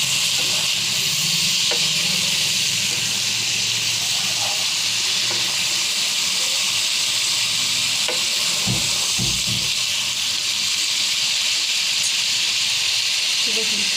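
Spice paste fries in oil with a splash of water while cooking Bengali fish curry, giving a dense, continuous sizzle and hiss with a few soft stirring knocks.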